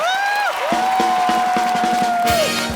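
A studio audience on a comedy talk show cheers and whoops loudly, sustained voices and scattered shouts riding over a continuous crowd roar.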